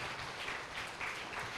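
Church congregation applauding during a worship service, a steady wash of clapping that runs continuously through the short stretch with no voices on top.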